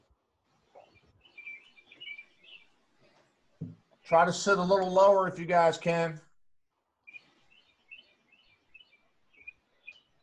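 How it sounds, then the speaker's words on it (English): Small birds chirp faintly in short twittering bursts in the background of an online HIIT workout class, while an instructor speaks briefly between the calls. "I hear those birds. Who's got the birds?"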